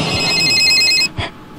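In the video game Bad Milk, a phone's loud trilling electronic ring runs for about a second, then cuts off, leaving a faint soft thump.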